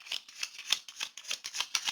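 Tarot cards being laid down one after another on a surface, a run of soft, crisp slaps and slides at a fairly steady rhythm, close and quiet with no voices.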